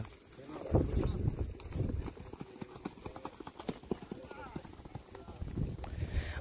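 Horse hooves clip-clop in a rapid, steady rhythm during a small rewal chal gait race in Dhanavada, Abdasa, Kutch, heard amid wind noise and under people talking.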